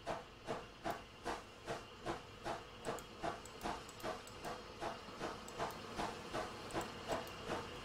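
Steam hissing and rhythmic chuffing from the Merchant Navy Clan Line locomotive in Train Simulator 2020 on the Paignton to Kingswear line, a steady run of about sixteen evenly spaced exhaust beats over a constant hiss, close and moderately loud with no talk.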